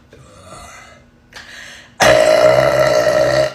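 A girl lets out a loud, long burp that starts abruptly after quieter sounds and holds strong to the end, close and alone with no talking.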